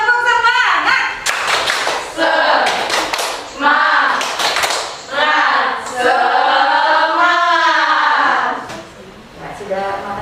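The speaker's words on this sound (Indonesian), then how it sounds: "Kita semangat dulu, semangat. Tepuk semangat." A school class does rhythmic 'tepuk semangat' patterned clapping, loud bursts of hand claps in set beats mixed with children's chanting voices.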